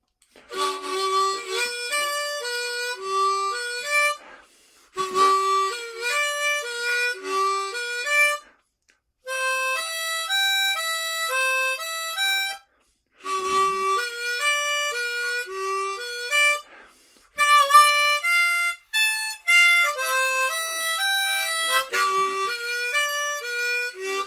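Bright reedy harmonica phrases in a bouncy boogie-woogie pattern, played alone in short bursts with brief pauses between runs.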